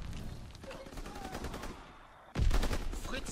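Sustained machine-gun and rifle fire in Call of Duty WWII competitive multiplayer, a steady rattling stream of shots that surges louder near the end, close and continuous, with occasional faint player chatter underneath.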